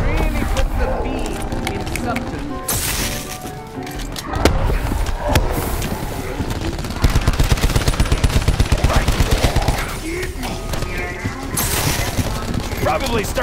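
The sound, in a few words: shotgun fire in video game Call of Duty Black Ops 4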